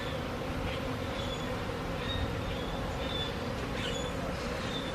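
Thousands of honey bees swarm around a backyard hive, filling the air with a dense, continuous buzzing drone and occasional higher whines of individual bees flying close by.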